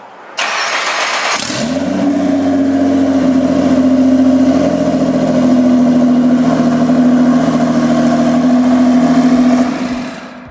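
A Nissan GT-R engine fitted with new downpipes cranks and fires up loud, then holds a deep, rumbling rev for several seconds before cutting off.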